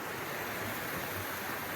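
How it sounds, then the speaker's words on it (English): Small waterfall on a mountain creek, a steady broadband rushing of falling water, continuous and fairly close, with no voices. "Nice little waterfall there, tree over it. What a beautiful creek coming down."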